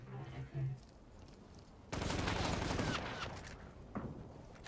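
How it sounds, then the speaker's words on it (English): Rapid automatic gunfire erupts suddenly during a PvPvE shooter video game match, a dense, loud burst of shots that stutters on for about two seconds, then trails off into a few scattered shots, with quiet talk beforehand. "They're all shooting."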